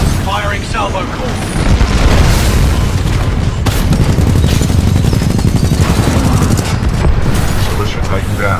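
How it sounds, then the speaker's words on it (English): In Titanfall 2, a salvo core missile barrage fires as a dense, continuous rapid roar of launches and booming impacts, loud and sustained for the whole stretch with only slight dips in intensity. "Firing salvo core."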